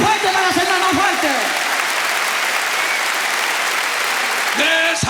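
Loud, dense applause from a church congregation during a worship service in Saltillo, Mexico, a sustained roar of many clapping hands that fills the space, with a preacher's voice heard at the start and end.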